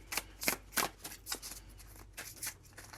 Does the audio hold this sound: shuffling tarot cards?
yes